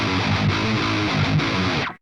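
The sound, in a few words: distorted electric guitar hammer-on riff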